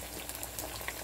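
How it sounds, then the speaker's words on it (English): Plantain bananas frying in hot oil, a soft continuous sizzle and bubbling with faint crackles throughout, heard close but quiet and without speech. "do not overcrowd in frying your bananas."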